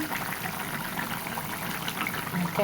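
Water at a rolling boil in a cooking pot for a Bengali fish curry with ridge gourd and potato, a steady close bubbling and gushing hiss that runs throughout with a small splash near the end.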